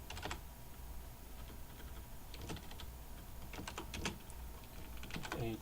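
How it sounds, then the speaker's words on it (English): Keyboard typing in irregular bursts of quick clicks, with a steady background hum and no voices. "Typing."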